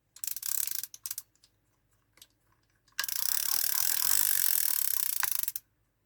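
Line spools off a Shimano Triton Star Drag fishing reel with a fast ratcheting click, first in short bursts and then in one sustained buzzing run of several seconds, close and clear with no talking.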